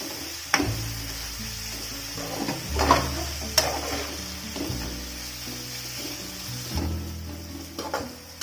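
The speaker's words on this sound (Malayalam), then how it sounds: "എന്നിട്ട് നല്ലതുപോലെ വഴറ്റിയെടുക്കാം" Onion and tomato sautéing in a pan for a homemade chicken curry, giving a steady soft sizzle with occasional scraping and knocks as the mixture is stirred.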